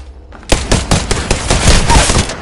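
Rapid bursts of gunfire in Apex Legends striking the player, a loud, fast series of sharp cracks starting abruptly and continuing for a couple of seconds.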